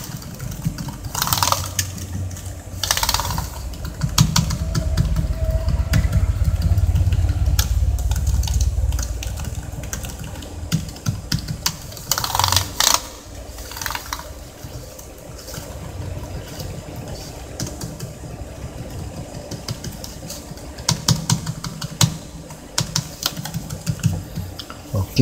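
Keys are pressed on an HP EliteBook Folio 9470m laptop keyboard with a faulty Enter key, giving bursts of clicky taps in uneven clusters separated by quieter stretches and a low rumble.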